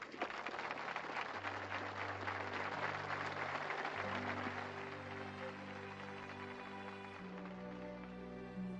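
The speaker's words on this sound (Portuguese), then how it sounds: "Agora vocês homens devem aplaudir isso porque está certo" A congregation applauding during a church sermon, a soft, dense patter of clapping heard at a distance, with steady sustained organ or keyboard tones playing underneath.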